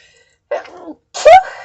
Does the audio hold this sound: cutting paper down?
no